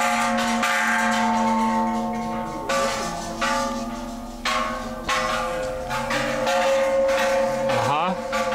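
A temple bell at the Grand Palace in Bangkok rings out with sustained metallic tones that decay and are struck again a few times, loud and close, with some talk in the background.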